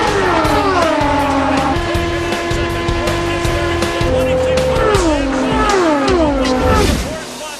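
A pack of 33 Indy racing cars roars down the 800-kilometer course at the Indianapolis Motor Speedway, engines loud and continuous, their high whine sliding downward in pitch again and again as cars sweep past close by.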